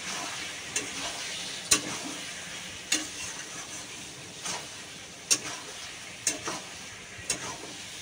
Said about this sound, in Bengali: লঙ্কা পুরো ভরেই করে দিয়েছি। এবার এটাকে ভালো করে কষবো।